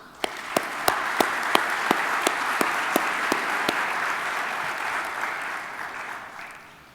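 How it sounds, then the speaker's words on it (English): Conference audience at the DMCC 2022 event giving sponsors a warm round of applause: dense, sustained clapping from a large room with a few sharp, prominent claps standing out early on, fading slightly toward the end. "can you please join me for a very warm round of applause for all our sponsors?"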